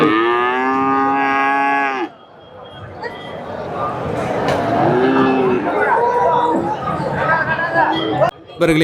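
A cow moos with a long, loud low call at a busy Karimangalam cattle market, followed by more distant lowing over constant crowd chatter and a few sharp knocks.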